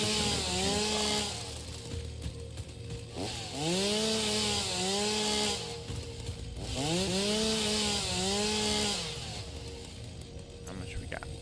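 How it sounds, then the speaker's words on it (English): A chainsaw in the video game Satisfactory cuts wood in repeated revving bursts, its whining engine pitch rising and falling in long loud cycles with brief lulls between. "I probably get more and more efficient with the chainsaw"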